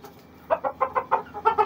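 Desi hens cluck nearby in a quick run of short, rhythmic bursts after a moment of near silence, moderately loud against a quiet background.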